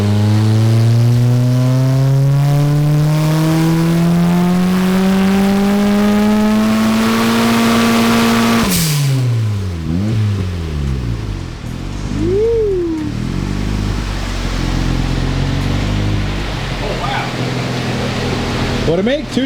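A turbocharged 1ZZ engine in an MR2 on a dyno, roaring loud and close as it climbs steadily through the revs, cutting off abruptly with a sharp pop, then settling into lumpy blips and a whistling turbo spool-down.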